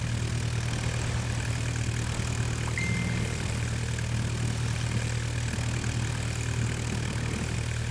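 A 1909-era propeller aircraft engine in Flight Simulator X drones steadily at full throttle, a continuous mid-pitched hum with a low rumble that holds even and loud throughout, with no voices.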